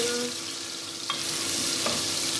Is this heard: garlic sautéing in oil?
yes